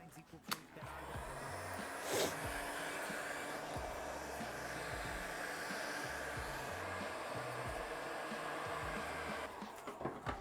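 A heat gun blows steadily while warming a car windscreen during removal, a continuous airy roar with a few short knocks and rustles on top.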